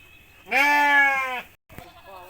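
A goat lets out one loud, close, wavering bleat lasting about a second, as goats butt heads, followed by a sharp knock and faint background sounds.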